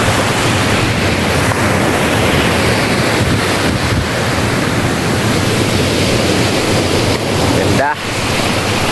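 Sea waves wash onto a beach at Infanta, Quezon in the morning, a loud continuous roar of surf with wind buffeting the microphone and a short dip near the end.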